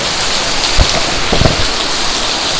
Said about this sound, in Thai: ฝนมันตก ฝนตกแล้วทำไงดี